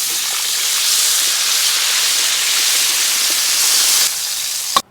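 Warm water is poured into a hot wok of pork fried with chili bean paste for a northeastern pork and glass-noodle stew. It produces a loud, sustained hiss of steam for several seconds that eases off and ends with a sharp knock.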